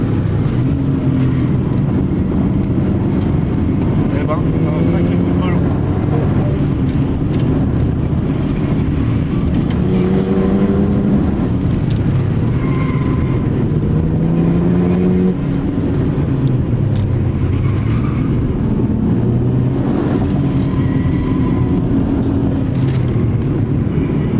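A race car on the Magny-Cours circuit accelerates with its engine note rising and falling through the gears, loud and close, over a constant rush of wind and road noise.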